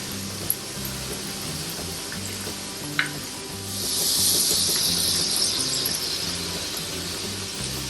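Festival food frying in a large pan, with a continuous close hiss of sizzling oil, a couple of sharp clinks, and a louder surge of crackling spatter partway through.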